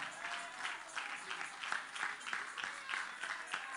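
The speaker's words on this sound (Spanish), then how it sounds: "Dale un aplauso fuerte al Padre," A church congregation claps together at an evangelistic campaign service, a steady soft patter of many hands with faint voices underneath.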